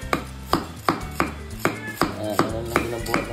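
Knife chopping ingredients for garlic butter shrimp on a cutting board, about nine sharp, evenly spaced chops, close and clear with no talking.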